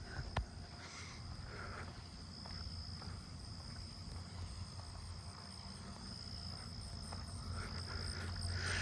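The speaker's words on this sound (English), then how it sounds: "I am approaching common true katydid heaven" Common true katydids calling at night in a suburban neighbourhood, a dense, faint, continuous chorus of rasping pulses against soft background hum, with a brief sharp click near the start.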